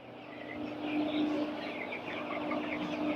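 Hundreds of black roosters in a poultry shed make a continuous clucking, chirping chatter, a busy flock murmur with a steady hum underneath.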